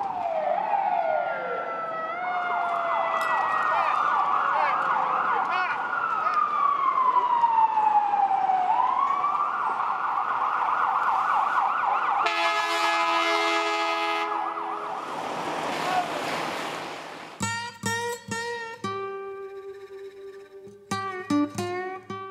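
Ambulance and police car sirens wail and yelp through New York City traffic, loud and continuous with shifting tones and overlapping sirens, and no talking.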